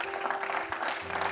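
A church congregation breaks into steady, dense applause that fills the room, with a faint sustained tone running underneath the clapping.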